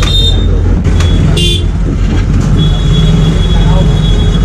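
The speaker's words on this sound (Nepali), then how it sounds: "Indian rail" An Indian train horn sounds near the India–Nepal border at Raxaul, Bihar: a steady high-pitched toot rising over constant loud road and wind noise from a moving motorcycle.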